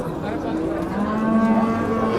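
A cow moos in a long, drawn-out low call that fills the whole moment, close by at the Chiroqchi cattle market in Qashqadaryo, Uzbekistan, with no talking.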